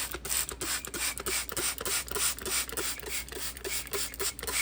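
Rapid, rhythmic hissing bursts of an orange juice and apple cider vinegar mixture from a trigger spray bottle onto chicken leg quarters, repeated many times in quick succession, close up with no talking.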